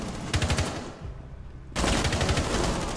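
Rapid automatic gunfire in the Rainbow Six Siege video game, two loud close bursts of fast shots separated by a short lull.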